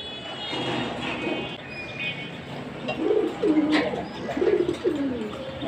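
Two pairs of pigeons kept in a cage on a sunny balcony coo in low, throaty rolls, mostly in the second half. The cooing is close, over a steady background hum, with faint chirps and no talking.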